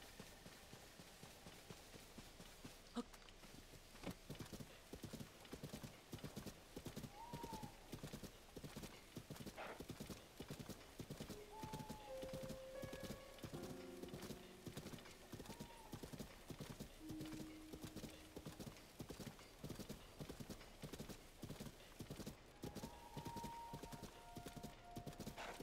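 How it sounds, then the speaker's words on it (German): Horse galloping in the video game The Legend of Zelda: Tears of the Kingdom: steady rapid hoofbeats drumming throughout, with occasional game chimes and effects on top and someone talking over it. "Epona, bring mich mal zum Wald"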